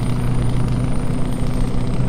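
A Mack Ultraliner truck engine in American Truck Simulator gives a loud, steady droning rumble with a constant low hum and a faint high whine, continuous throughout with no talk.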